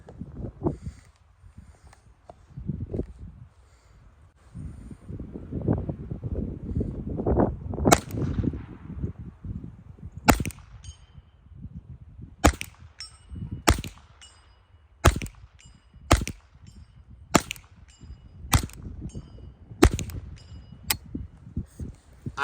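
Ruger 10/22 rimfire rifle shots ringing on a steel target outdoors in heavy wind: about ten sharp, evenly spaced cracks, each followed by a metallic ping, over steady wind rumble.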